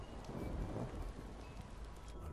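Steady rain patters in the horror video game Pineview Drive, a faint continuous wash of rainfall with a soft low rumble underneath and no clear thunderclap.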